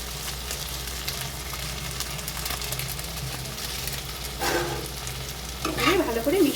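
Chicken pieces stir-fry in a pan, a steady sizzle under scraping stirs as they are mixed, building to a louder burst of tossing and clatter near the end; no one speaks.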